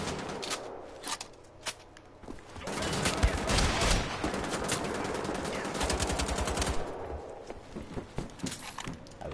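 Rapid automatic gunfire in Wolfenstein: The Old Blood, loud, dense bursts of shots rattling almost continuously through the middle, with quieter scattered shots and clatter at the start and end.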